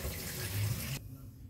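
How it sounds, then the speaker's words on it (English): Homemade eucalyptus herbal bush medicine pours into a bottle as a steady, faint trickling stream of liquid that stops abruptly partway through, leaving quiet background. "I'm gonna pour it in a bottle"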